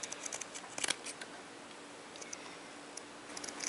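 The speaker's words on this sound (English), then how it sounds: "And then you just take your scissors and you trim it right up with the edge." Scissors trim fursuit eye material, making a quick cluster of small, crisp snipping clicks near the start and a few more toward the end, close and fairly quiet, with no talk.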